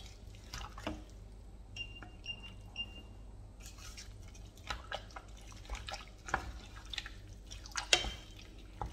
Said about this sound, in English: Right, so I'll give it a good stir